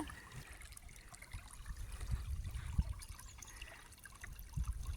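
Faint, steady trickling of irrigation water flowing from a tank into a farm field nearby, a soft continuous gurgle with occasional small splashes.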